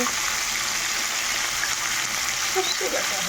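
Fish frying in hot oil in a home kitchen, giving a steady, even sizzle that holds at one level throughout with only faint scattered crackles on top.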